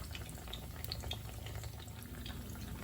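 Tempeh mendoan frying in a pan, a steady low sizzle and crackle with small scattered pops, fairly quiet and continuous, no voices.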